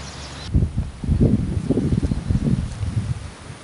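Strong wind gusting above 30 km/h at a tilapia fishing spot, a steady rough rumble buffeting the microphone after a brief quieter start, with irregular low thumps and rustling throughout.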